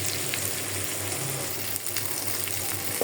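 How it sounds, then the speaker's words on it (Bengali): Fish fries in a pan with onion added, giving a steady broad sizzling hiss with a low hum underneath and a few faint stirring clicks, close and even, with no talking. "মাছ ভাজায় দিয়ে দিলাম একটু পেঁয়াজ।"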